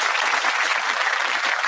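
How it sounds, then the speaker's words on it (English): Dense, steady clapping from a crowd fills the whole moment, a continuous wash of applause without any voices. "That applause must be a welcome sound."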